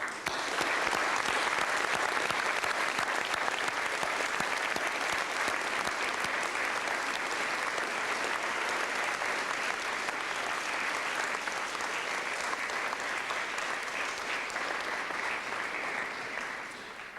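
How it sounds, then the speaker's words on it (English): A large audience at a UNSW university graduation ceremony in an auditorium applauds continuously, a dense, even roar of clapping that holds steady throughout and fades slightly at the end. "would you please join me in saluting the support that has been given and applauding as well"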